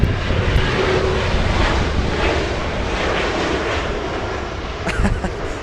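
An airliner lands in a crosswind at Los Angeles International Airport, its engines roaring loud and sustained with gusty wind rumble throughout, surging briefly near the end.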